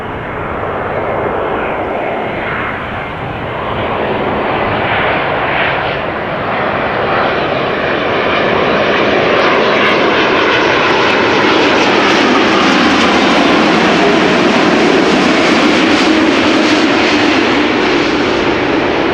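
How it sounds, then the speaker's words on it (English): A Boeing 787-8 Dreamliner airliner at Amsterdam Schiphol Airport, Kaagbaan runway, roars loudly and steadily for the whole span, the broad engine rumble swelling slightly as it nears. "This Dreamliner, 8 hours and 33 minutes on the way, 7878, 9 years old, first flight March 2015."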